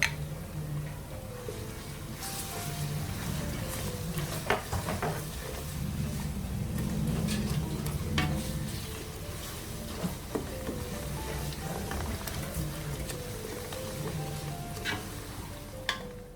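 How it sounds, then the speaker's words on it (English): Tinned tomatoes fry in oil in a pot, giving a continuous close sizzle and bubbling with scattered stirring taps and clicks, with no talk. "I am going to go ahead and fry my tin tomatoes until it's nicely"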